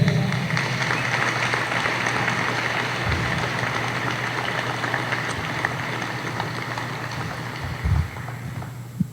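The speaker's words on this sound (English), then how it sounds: "Would you please give a round of applause for Bentonville High School Athletic Hall of Honor inductee, Bill Burnett." Applause from the audience at the 2022 Bentonville High School Athletic Hall of Honor ceremony as an inductee is introduced. A dense, steady crowd clapping fills the room without a break, with a brief louder burst near the end.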